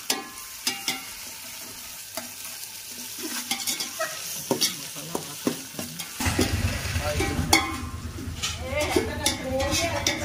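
Curry stirred in a frying pan, a spoon scraping and clinking in repeated strokes, with the sizzle growing louder and denser partway through; voices talk in the background.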